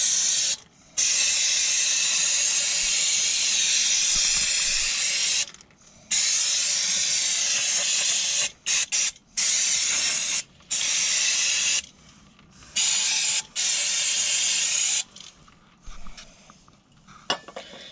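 Aerosol brake cleaner hisses onto rear brake parts of a Volvo in long, loud bursts of spray separated by short pauses, with a few quicker squirts and no talk.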